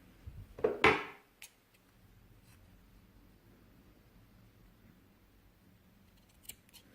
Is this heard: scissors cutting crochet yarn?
yes